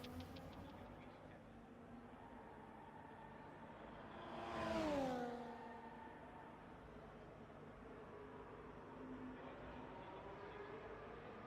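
A Formula 1 car in the racing game F1 24 sweeps past on track, its engine whine rising and falling in pitch as it goes by against a steady low hum.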